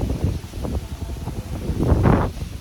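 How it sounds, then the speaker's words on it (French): Wind buffeting the microphone on a café terrace in Bordeaux, a steady, rough rumbling gust that swells louder toward the end, with no one speaking. "Genre, j'ai du vent,"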